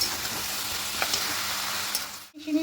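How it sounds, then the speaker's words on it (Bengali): Greens and potato being stirred with a green-chili poppy seed paste in a pan, a steady soft sizzle with scraping strokes, close, alone without talk, ending in a brief pause and a louder scrape. "পোস্তর সঙ্গে শাক আর আলুটাকে খুব ভালো করে মিশিয়ে নেবো"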